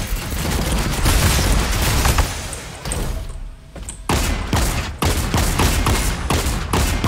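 Heavy, rapid gunfire in a video game arena, with repeated booming shotgun-like blasts and dense bursts of shots that pause briefly near the middle before resuming, loud and close throughout.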